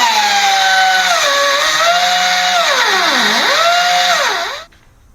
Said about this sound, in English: I gotta grind it off.